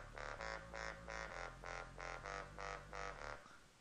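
Dubstep bass line melody dropped an octave lower in FL Studio, a buzzy synth playing a rhythmic series of short repeated notes over a sustained low tone, clean and alone.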